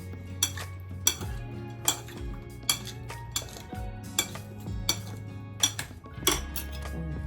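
A salted egg and tomato salad is tossed in a bowl, with steady, rhythmic clinks of a utensil striking the dish about once a second over a soft shuffling, and no one talking.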